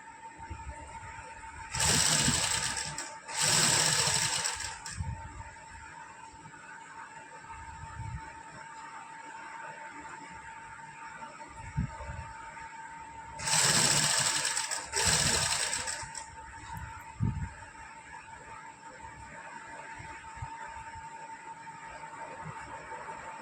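A sewing machine stitches cutwork lace onto the hem and sleeves of a suit, running in two loud whirring bursts with a quieter steady hum and soft handling noises between them.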